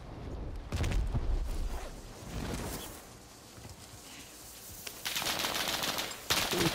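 Rapid automatic gunfire in a Rebirth battle royale game, Iron Trials mode, rattles in fast bursts with distant crackling shots and pauses between volleys, no talking.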